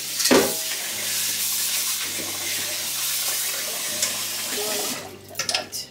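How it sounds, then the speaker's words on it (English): Four cups of rice being washed under running tap water, a steady loud gushing hiss with sloshing and swirling as hands stir the grains, ending in a few splashing clatters, no talk. "I have 4 cups of rice in here, so I'm gonna be washing this"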